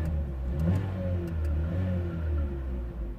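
Vauxhall/Opel Astra J 1.6 petrol engine with a lean-running fault idling nearby, a steady low rumble with slight fluctuations in revs, moderately quiet and alone.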